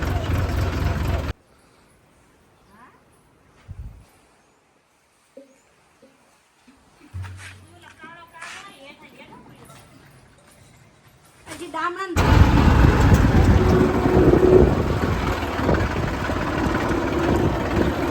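A tractor engine idles loudly and steadily through the final third, a continuous low rumble that arrives after a quiet stretch broken by scattered knocks and brief bursts of noise, on a farm where the tractor comes to haul an ox cart.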